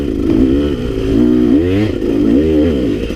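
A KTM 200XC two-stroke dirt bike, a 150 converted to 200 with no counterbalancer, revs loud and close, its buzzing engine rising and falling in steady blips with no talking.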